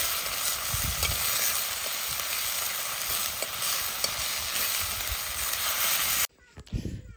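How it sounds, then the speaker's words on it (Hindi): Vegetables sizzle and fry in a pan over an open fire outdoors in a village, with a steady loud hiss and occasional stirring scrapes, then cutting off abruptly near the end. "सब्जी डाल रही हूँ"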